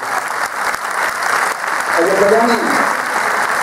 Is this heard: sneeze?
no